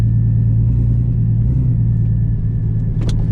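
Mercedes SLK32 running flat out at full throttle on a drag strip at a street car takeover event, a loud steady engine rumble with a constant whine throughout, plus a brief burst of higher noise near the end.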